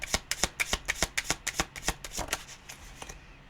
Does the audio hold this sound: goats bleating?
no